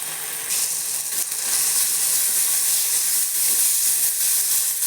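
Spices such as turmeric, green chili, chili powder and coriander powder fry in hot oil in a pan. The sizzle is steady, loud and close, a bright hissing crackle that continues throughout with no talking.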